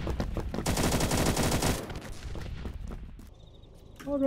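Rapid VSS suppressed rifle fire in a shooter video game, a dense burst of shots for about two seconds, then scattered fainter reports.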